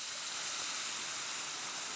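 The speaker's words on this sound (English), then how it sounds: "we're actually going to add our delicious chicken broth" Hot chicken broth poured into a pan of orzo, a steady close hiss and rushing pour that holds evenly for the whole moment, with no talk.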